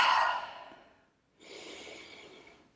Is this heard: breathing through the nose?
yes